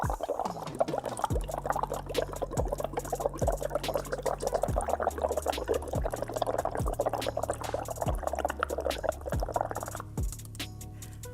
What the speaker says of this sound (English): what happens when you simply blow a little bit of air into the water?